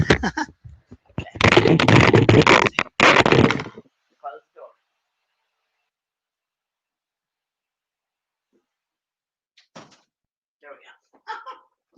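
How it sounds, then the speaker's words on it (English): A door swings shut nearby with a loud, broadband burst lasting about two seconds, followed by a few faint handling knocks. Afterward comes near-silence with soft, scattered talk. "Hold on one second, I'm gonna close my door."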